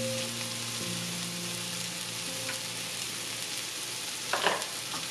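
Tomato frying with mustard paste and salt, a constant sizzle and hiss in the pan with a steady tonal hum underneath, and a brief stirring scrape near the end.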